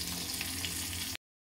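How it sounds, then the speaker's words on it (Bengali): Pieces of fish frying in hot oil in a karahi for a Bengali fish curry, giving a loud, dense, steady sizzle close by that cuts off abruptly after about a second. "মাছগুলি পরের পর ভেজে নিলাম"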